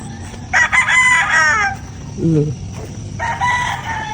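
Loud rooster crowing close by, twice, with a brief chicken cluck between the calls.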